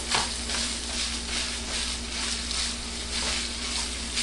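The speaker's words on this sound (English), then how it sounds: "The ground beef is actually cooking." Seasoned ground beef cooking in a pan after being drained once, giving a continuous, even sizzle with a soft low hum underneath and no talking.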